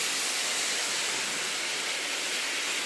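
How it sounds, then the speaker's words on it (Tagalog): Heavy rain pours steadily in Tokyo during a storm, a dense, even hiss of falling water with no breaks or voices. "Ayun o, malakas ang ulan."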